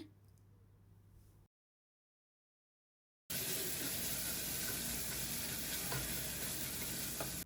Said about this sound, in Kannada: ಅದರ ಹಸಿ ವಾಸನೆ ಎಲ್ಲ ಹೋಗೋ ತನಕ ಸ್ವಲ್ಪ ಹೊತ್ತು ಫ್ರೈ ಮಾಡ್ಕೊಳ್ಳಿ